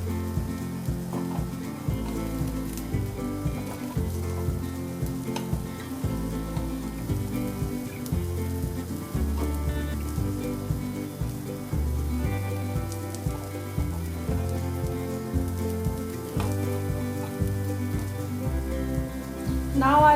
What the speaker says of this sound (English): Now I'll cover this and cook for around 5 minutes or till the brinjals are done